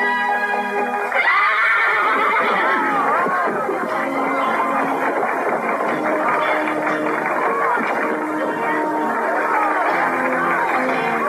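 A horse whinnies at a horse race over a loud, dense crowd murmur that carries on steadily throughout.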